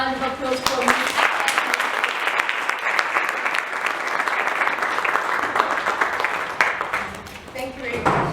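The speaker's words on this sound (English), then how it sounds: "Can you please give a round of applause for me?" Audience applause at a women's empowerment seminar, a dense, loud burst of clapping from a crowd that carries on steadily, with voices mixed in at the start and end.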